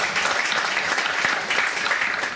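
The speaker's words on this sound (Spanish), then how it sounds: "les pido un aplauso muy grande para los panelistas" Steady, dense applause from a seminar audience for university panelists, a continuous wash of many hands clapping at even loudness throughout, with no voices above it.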